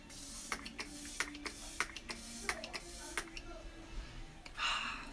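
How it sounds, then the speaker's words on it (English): Younique Touch Behold setting spray misted in a few short puffs, with a longer breathy spray burst near the end, close and fairly soft. "Touch Behold Setting Spray."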